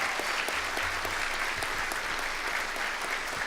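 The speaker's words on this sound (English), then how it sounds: "let's give a big round of applause." Steady applause from a crowd at a business awards event, sustained dense clapping throughout with no voices standing out.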